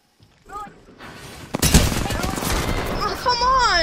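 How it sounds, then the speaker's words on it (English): Gunfire in the Apex Legends video game: dense, loud overlapping bursts of shots and impacts that build after a short quieter stretch, with a voice briefly heard in between. "There's somebody shooting at me, somebody else shooting at me."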